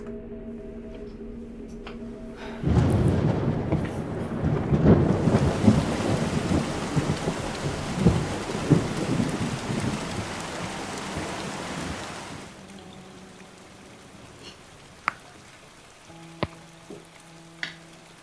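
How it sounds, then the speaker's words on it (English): A thunderstorm bursts in with a sudden roar of heavy rain and rolling thunder, loud and dense for about ten seconds, then drops to a quieter wash with a few sharp knocks afterward. "there's a storm moving in."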